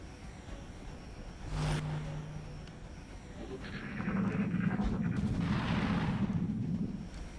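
Overwatch reaction shots in XCOM Enemy Within: a sharp gunshot crack near the start, then a heavier burst of rumbling fire in the second half, fairly faint overall with little talk.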